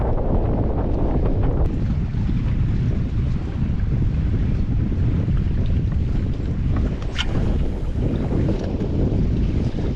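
Strong wind blows across a shallow fishing flat, recorded from a boat on the water, a constant loud roar with heavy microphone buffeting throughout.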